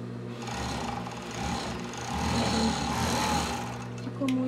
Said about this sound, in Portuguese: Último centímetro de costura.